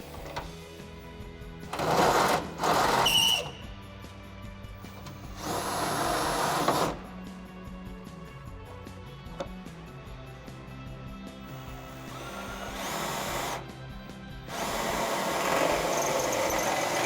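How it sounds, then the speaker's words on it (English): A power drill with an 11/32 inch bit bores a mounting hole for Barricade HD flat fender flares on a Jeep Wrangler JK, whirring in several short bursts separated by pauses, faint against a quiet background. "we can step up to the 11/32 inch drill bit that we need to use to drill the actual mounting hole"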